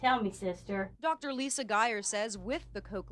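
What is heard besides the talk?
No everyday noise stands out behind the speech.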